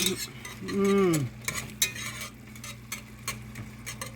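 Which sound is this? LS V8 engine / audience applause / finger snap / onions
onions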